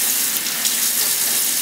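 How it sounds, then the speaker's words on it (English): Cold kitchen tap water running steadily over a raw chicken breast being rinsed, a close, even hissing splash with slight flutters, continuous and without speech. "Rinse that chicken breast off real good, man. You know what I'm saying? I use cold water."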